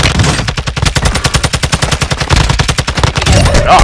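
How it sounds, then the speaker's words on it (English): Rapid automatic gunfire in the Warzone Resurgence battle-royale game, a dense run of close, loud machine-gun bursts firing steadily for several seconds without pause. "he was shooting at me"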